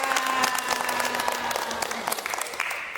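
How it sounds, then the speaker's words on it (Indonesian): An audience at a village family-resilience gender-awareness event in Sendangagung claps loudly and continuously, with dense applause and some crowd voices throughout. "Tepuk tangan untuk kita semua"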